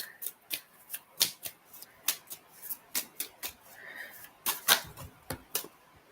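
Tarot cards shuffled by hand close up, a steady run of sharp papery slaps and flicks in an uneven rhythm, fairly quiet and with no talking.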